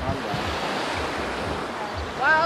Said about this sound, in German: weil der Wind ist hier krass